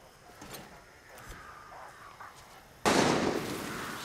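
A sudden loud burst of gunfire in Far Cry 6 erupts after a quiet stretch and continues as a dense crackling barrage to the end.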